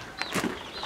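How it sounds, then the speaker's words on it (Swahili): Chickens give a few short, soft clucks while being fed garden scraps in a small backyard garden. "Kuku wamepokea kwa bashasha."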